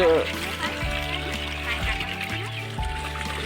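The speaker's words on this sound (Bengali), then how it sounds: "জলটা একটু বেশি করে দেওয়া হচ্ছে কি" Water poured and splashing onto vegetable seedlings on an Andaman farm, a close trickling and gurgling stream with low thuds, while people talk in Bengali over it.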